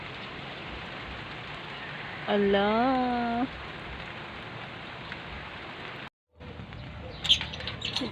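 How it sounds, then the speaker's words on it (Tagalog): Steady rain hisses outside, with a brief higher voice sound rising over it midway and a short dropout near the end. "So, tumingin ako dito sa labas. Ulan talaga."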